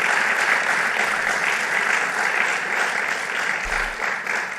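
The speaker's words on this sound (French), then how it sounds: "Là, ça devrait être la standing ovation." A large audience, police officers among them, keeps up thick, continuous applause after Emmanuel Macron's address at the Beauvau de la Sécurité, loud and even, tapering only slightly toward the end.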